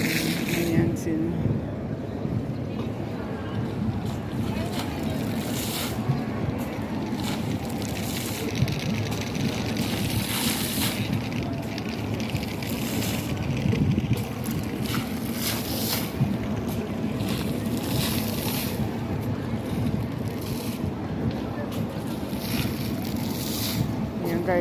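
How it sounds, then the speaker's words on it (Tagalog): Water gushes from a fountain in front of Tung Chung City Gate, a steady broad rushing hiss with outdoor wind, while people chat over it throughout. "dito sa harap ng City Gate guys sa Tongchong is may bumubugang tubig"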